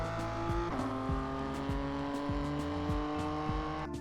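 Porsche Cup car in a racing video game at full throttle onto the oval of the Charlotte Roval, a steady high engine drone with a gear change early on and regular rhythmic ticks over the constant tone.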